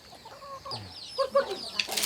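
Chickens cluck on a farm in the morning, a few faint scattered clucks and calls at a distance, growing slightly busier toward the end over quiet ambient noise.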